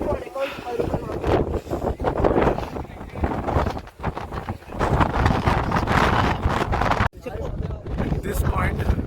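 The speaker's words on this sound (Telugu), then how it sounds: "విండ్ ఆగురా ఆగురా ఒక నిమిషం ఆగురా ఒక నిమిషం. Wind speed" Strong gusting wind roars across the microphone on a risky mountain trek at Mulyangiri and Budangiri, loud and continuous with brief drops, while people talk under the buffeting.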